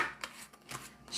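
Deck of oracle cards being shuffled by hand, a few quick soft riffling flutters close up and quiet.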